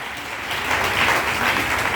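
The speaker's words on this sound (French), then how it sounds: "Est-ce qu'on peut acclamer la parole?" Applause from a church congregation during a sermon by Pastor Koffi Désiré: a steady, dense wash of clapping that swells slightly after the first half-second and continues evenly throughout, with no talk over it.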